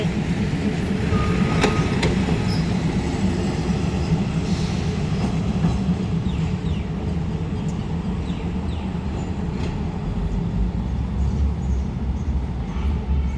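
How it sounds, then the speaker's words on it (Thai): A diesel railcar train idles at a platform of Bangkok station, with a steady low engine rumble close by and faint clicks and clanks over the top, and no voices. "ขบวนรถที่เซลรางขบวนที่ 356 วันนี้เขาจอดเทียบในชานชาลาที่6สถานีกรุงเทพ"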